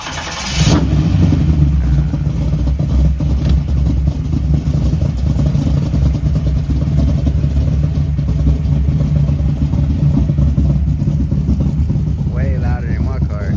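A Chevrolet El Camino with a bored-out 350 small-block V8, roughly 377 cubic inches, starts and then roars loudly and close at high revs, a heavy continuous engine rumble with people talking over it.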